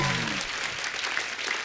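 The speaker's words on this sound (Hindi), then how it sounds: "जोरदार तालियां सोनम और दुलकर के लिए।" An audience applauds at a televised Indian talk show, a dense, continuous patter of many hands clapping at an even level. A voice is briefly heard at the very start.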